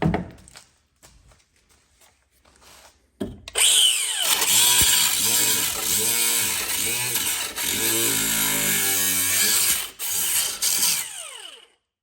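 A power tool cuts loudly into Ford Ranger cab sheet metal, starting abruptly after a few quiet seconds with a faint voice, then grinding steadily for about seven seconds, with a short break and a final burst before stopping.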